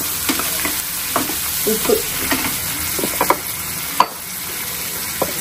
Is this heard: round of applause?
no